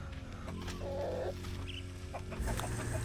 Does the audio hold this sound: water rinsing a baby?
no